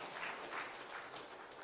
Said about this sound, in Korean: 우리 주님께 감사의 박수 드리고,